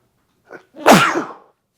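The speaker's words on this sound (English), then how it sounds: "I'm about to sneeze." A single close sneeze: a short inhaled catch followed by a sharp, loud burst that trails off quickly.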